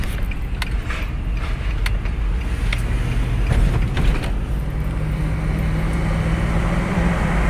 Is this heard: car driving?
yes